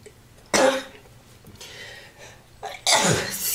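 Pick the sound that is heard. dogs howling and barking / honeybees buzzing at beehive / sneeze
sneeze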